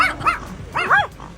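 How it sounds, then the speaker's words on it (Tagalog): Dogs barking at each other from cars stuck in traffic, the one in a red car starting it; a few sharp close barks and yips in quick bursts. "naunang tumahol ang asong nasa pulang sasakyan nang makita ang alagang sikito sa bintana ng kotse"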